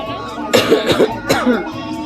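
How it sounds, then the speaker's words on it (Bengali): A child gives a short run of close, loud coughs in a few bursts, with a faint steady background hum. "বাচ্চা কাশি হচ্ছে"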